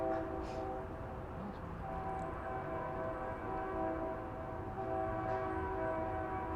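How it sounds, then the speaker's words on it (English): A train horn blares in a sustained, steady tone over a low rumble of the passing train, heard from some distance and holding for the whole stretch. "I can see why people don't like the train horn, the noise."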